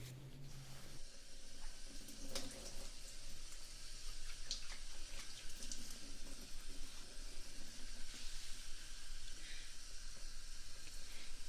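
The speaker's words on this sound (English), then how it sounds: "Now we are just gonna do a quick shampoo wash out" Running water rinsing shampoo out of hair at a wash station, a steady soft hiss of spray over the scalp with faint splashes, close and quiet, with no talking.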